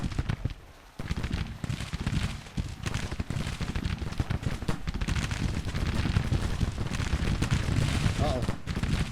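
Dense, continuous battle gunfire from massed troops in a Grand Tactician American Civil War game, a crackling volley-like roar that swells slightly toward the end, with a voice speaking over it.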